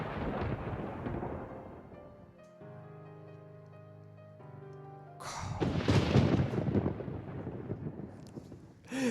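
Thunder from a lightning strike in Minecraft rumbles in a sudden loud, broad crash that rolls on for several seconds, following a stretch of quieter game ambience.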